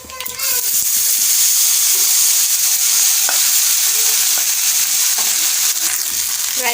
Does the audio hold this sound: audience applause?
no